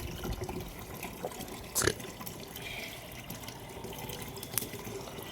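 Water runs from a tap into a container, a continuous moderate splashing flow with a short louder burst of gurgling partway through.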